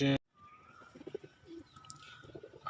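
Soft, low pigeon cooing murmurs in the background, several birds at a moderate distance, with faint chirps and rustling.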